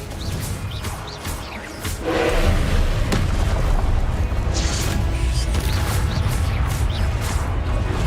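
Repeated Confringo and Incendio fire-spell explosions in Hogwarts Legacy, a loud booming barrage of blasts and crackling bursts that builds after a quieter opening and keeps rumbling continuously.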